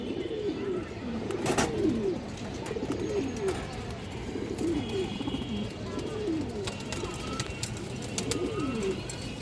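Pigeons kept on a farm coo steadily in repeated throaty, rolling phrases, several birds overlapping nearby over a busy background of faint chirps and clatter.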